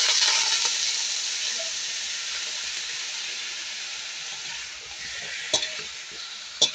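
Chicken pieces frying in a pan for a home-style Kapampangan afritada, a steady broad sizzle running throughout with faint stirring scrapes and a couple of sharper clinks near the end.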